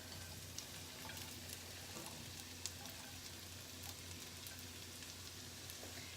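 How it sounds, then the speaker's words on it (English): Mixed vegetables for a vegan peanut-free stir fry sizzling in a pan: a steady, faint hiss of frying with occasional small pops, continuous throughout and without voices. "So I'm literally gonna dump all of my vegetables in."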